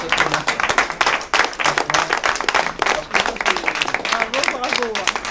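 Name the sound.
applause at a citizens' meeting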